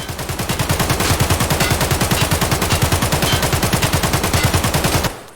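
A long, loud, continuous burst of full-auto AK rifle fire in a video game, with rapid evenly spaced shots that carry on for about five seconds before cutting off abruptly.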